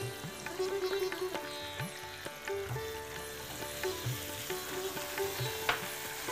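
Garlic and onion paste sizzles in a little hot oil, a steady close frying hiss with occasional stirring scrapes and soft clinks against the pan.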